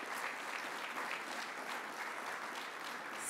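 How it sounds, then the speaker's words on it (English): Audience applause at an awards gala, steady clapping throughout at a faint level with no talk over it. "So give yourselves a round of applause."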